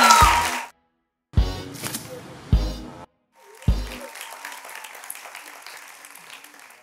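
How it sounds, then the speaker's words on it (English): Studio audience applause for Team B, the group including the presidents of Finland and Brazil, comes in several bursts broken by short gaps, the final burst fading out slowly. A voice speaks briefly between the bursts. "Please give Team B a round of"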